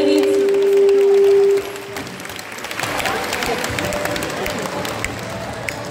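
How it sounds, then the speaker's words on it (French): Audience applause after a show, a steady patter of many hands clapping at moderate loudness after an opening stretch dominated by a sustained tone and background noise. "Un tonnerre d'applaudissements à Harmonie."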